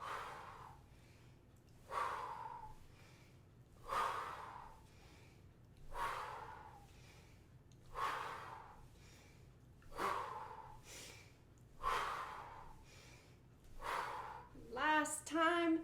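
Steady breathing in a qigong breathing exercise, a fairly close breath sound about every two seconds with each inhale and exhale rising and falling in even rhythm, no voices, and a quicker, busier burst of breath right at the end.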